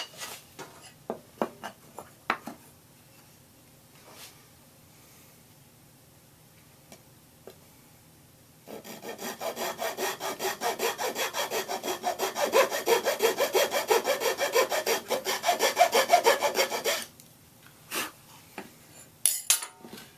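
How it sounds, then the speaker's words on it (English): A curved cut being sawn through wood for the neck piece of an acoustic kirar: about eight seconds of steady, rhythmic, close sawing strokes, preceded and followed by scattered light taps and knocks. "once you start the cutting, the curve cut will guide you"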